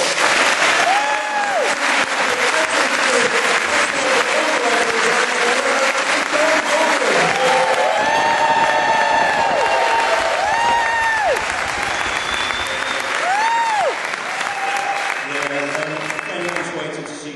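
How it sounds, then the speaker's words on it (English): Sustained audience applause fills a comedy club between acts, loud and dense throughout, with whoops and cheers rising over the clapping and a few voices calling out near the end. "let's have some applause"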